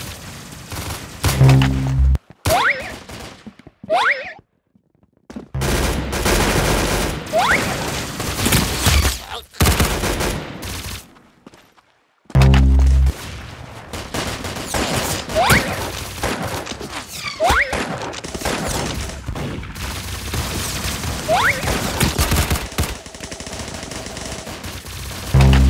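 Rapid automatic gunfire in a video game during a headshot kill, loud sustained bursts with short pauses and sharp cracks, game effects throughout, no talk.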